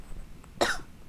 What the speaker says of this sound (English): Excuse me a sec. I got a cough.